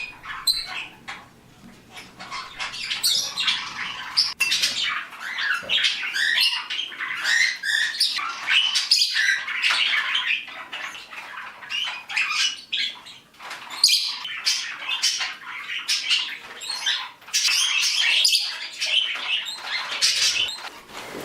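Many pet birds in an indoor bird room chirp and tweet continuously, a dense overlapping chatter of high calls with scattered sharper notes, fairly close and steady throughout.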